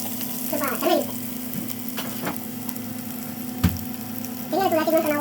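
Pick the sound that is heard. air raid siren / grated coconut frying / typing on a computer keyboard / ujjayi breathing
grated coconut frying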